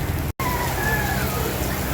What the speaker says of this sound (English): it's raining a lot and the wind is really picking up